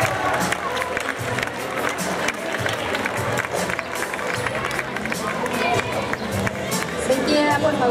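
A crowd at a high school senior farewell ceremony applauds and cheers for the last graduating class, with loud continuous clapping, shouts and babble filling the hall throughout.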